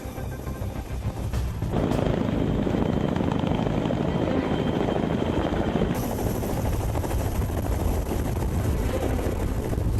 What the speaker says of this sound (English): For this presidential mission, not one, but 4 helicopters must squeeze onto the pad.